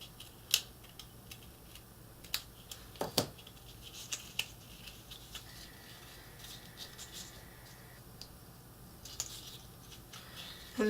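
A slipcase board corner is trimmed with a few quiet, sharp snips and clicks spaced irregularly over a soft, steady background hum.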